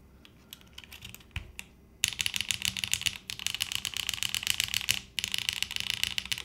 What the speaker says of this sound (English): I'm just gonna put in 2 random keycaps here. I just want to see what the